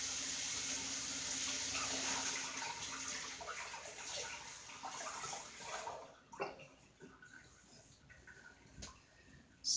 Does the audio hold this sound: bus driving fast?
no